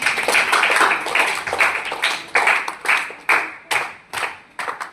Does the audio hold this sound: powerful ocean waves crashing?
no